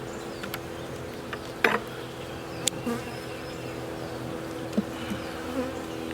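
Honeybees buzzing steadily around an open hive during an inspection, a dense close hum with scattered clicks and knocks from handling frames.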